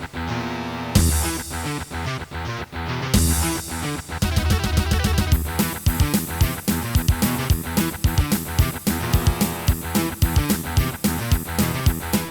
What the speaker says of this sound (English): If you were loaded and had one of those fancy Sound Canvas 55 Mark IIs, now Doom sounds like this.